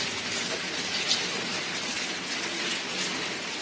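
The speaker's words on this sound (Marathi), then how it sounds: "वाजलं संध्याकाळचे 5:45 आणि आमच्या इकडे आलाय पाऊस." Steady evening rain falls at 5:45 pm, a dense, even hiss of drops on surfaces that continues without pause, with no voices over it.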